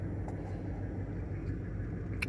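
A 2001 Ford F-150 with the 4.6 V8 idling roughly with a misfire, a steady low rumbling engine drone heard close and alone, with no talking over it.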